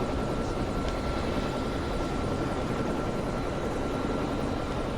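A helicopter in the video game Alan Wake, a steady continuous rotor and engine drone that stays at even loudness throughout, with no talk.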